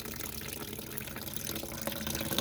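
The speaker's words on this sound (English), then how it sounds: "I'm going to let out this water all the way down below the pipe" Water rushes and gurgles steadily as it is let out through a pipe, a continuous broadband flow at moderate level with no voices.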